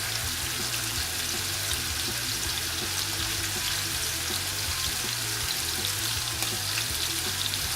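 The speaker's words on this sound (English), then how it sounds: "we're going to start off with another batch of meat, just like that. Throw it right into the pan." Steak strips for fajitas frying in a hot pan, a loud, steady sizzle up close with a low bubbling hum underneath, continuous throughout with no talking.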